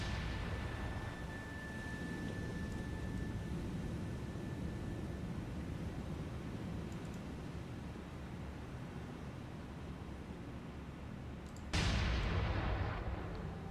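Distant naval gunfire from warships in the War on the Sea video game, a steady low rumbling roar of far-off shelling that surges louder with a sharp broadband burst near the end.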